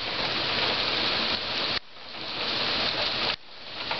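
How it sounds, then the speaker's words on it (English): Steady broadband hiss of rain falling, loud and continuous with two abrupt cuts where the level drops and then builds again, no voices over it. "Lydia, it's raining."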